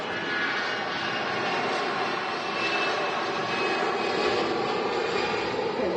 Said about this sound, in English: And there goes the Lufthansa A320 off to Frankfurt